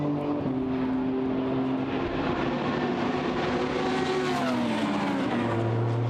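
GT race cars roar past at Paul Ricard circuit with a dense, continuous engine drone, their pitch sweeping up and down as they pass, and a low rumble swelling near the end.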